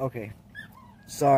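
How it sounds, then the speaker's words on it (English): Dog whimpering and yipping in the background, a few brief high whines between a person's short spoken words, fairly close indoors. "I know you guys can probably hear the dog in the background."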